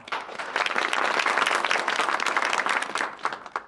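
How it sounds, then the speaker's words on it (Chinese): Warm applause from company staff welcoming a new head at a meeting, dense continuous clapping that swells quickly, holds steady, then thins out and fades at the end. "让我们以热烈的掌声欢迎由 PCC 集团委任的从美国"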